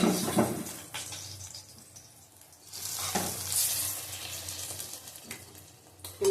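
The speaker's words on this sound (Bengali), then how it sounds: "দেখো মাছের ঝোলটা ফুটে গেছে।" Pabda fish curry with mustard and cumin bubbles in a large wok, giving a close hissing, sputtering boil that swells and eases in bursts, with a quieter stretch in the middle.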